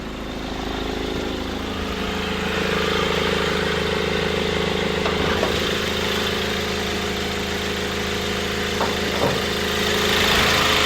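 A 2013 Land Rover Defender 130 with a 2.2 TDCi diesel engine idles steadily with the bonnet up, a constant low rumble and clatter heard close and loud throughout, with no voices.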